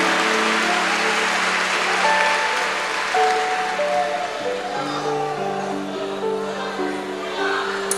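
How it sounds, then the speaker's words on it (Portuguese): Steady applause from a church congregation carries on throughout, with background music and voices mixed underneath. "Aplausos a Jesus."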